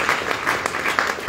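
Audience applause at a keynote conference address, a dense steady wash of many hands clapping at close range, sustained evenly through the short stretch with no voices over it.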